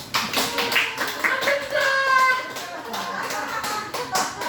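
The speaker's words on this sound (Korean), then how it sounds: "박수 한번 쳐주세요" Audience clapping during a laughter therapy lecture, a burst of hand claps at moderate distance, mixed with voices and a short sung or spoken tone.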